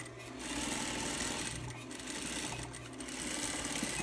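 A sewing machine stitches a seam on a six-panel cap, whirring in a fast, continuous mechanical run up close, with brief slowdowns around the middle and near the end.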